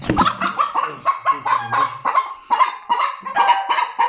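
A hen disturbed on her nest clucks and squawks in rapid agitated bursts, loud and close, in an uneven run of calls.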